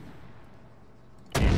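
Artillery fire in the Arma 3 video game: a single loud, sharp blast with a heavy booming tail bursts in at the end, after a quiet stretch of low ambient rumble.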